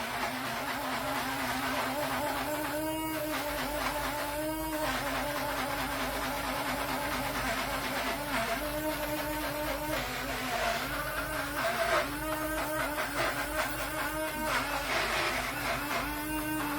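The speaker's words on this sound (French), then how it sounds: "Et là, on vient mixer." A kitchen mixer runs steadily for the whole stretch, blending dough for chocolatines with a continuous loud motor drone, no voices over it.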